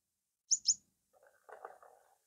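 A sunbird in a bath cage with water gives two quick, bright chirps close by, then a softer, lower run of twittering notes that trails off.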